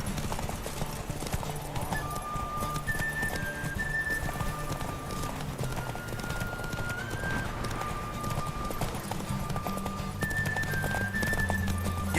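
Roach the horse gallops through the Witcher 3 video game world, hooves clip-clopping in a steady, continuous rhythm with an occasional whinny, over game music and faint talk.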